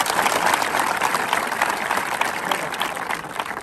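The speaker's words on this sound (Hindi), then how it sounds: "एक बार दिल से ताली बजा दी सब लोग" A crowd claps heartily and steadily throughout at a physical training academy gathering, a dense wash of many hands at close range with no break.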